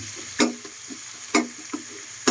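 Garlic frying in a pan as lumpiang ubod is cooked, a steady soft sizzle with a few sharp clacks of a utensil stirring against the pan, close and alone with no talk.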